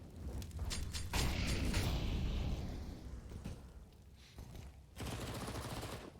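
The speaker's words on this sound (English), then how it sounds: "He's got that MP9 out and fires off some bullets towards the bottom of B." MP9 submachine gun fire in CS:GO on the Inferno map, quick bursts of shots with mechanical clatter, broken by short pauses and sounding fairly close amid game ambience.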